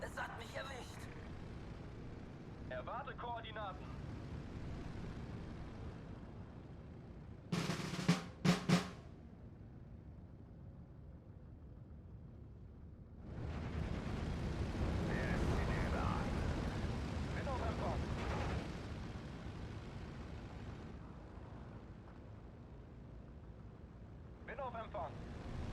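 Bomber aircraft attacking in Steel Division 2, a World War II strategy game: a loud, sustained roar of engines and blasts swells for several seconds amid scattered short bursts, with someone talking over parts of it.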